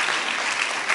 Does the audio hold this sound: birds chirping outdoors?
no